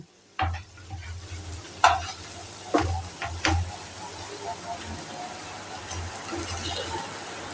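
Jute leaf fritters frying in a little oil make a soft, steady sizzle, punctuated by several sharp spatula scrapes and knocks early on, fairly faint, with a quiet voice in the background.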